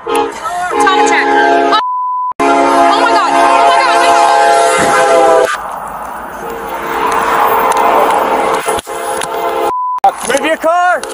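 A freight train's loud horn blares in long blasts over heavy rumble and clatter as it passes and hits a police car, cut by brief beeps and shouting voices.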